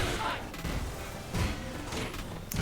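Cammy lands her Cannon Spike in Street Fighter 6 during an M. Bison arcade run. Punchy thuds and bursting impact hits land in quick clusters over busy game sound.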